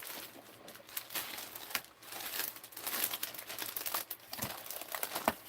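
Thin cardboard paper being handled and crinkled while reaching into a box, irregular rustling and crackling bursts with a few sharper snaps, close and fairly quiet, with no talking.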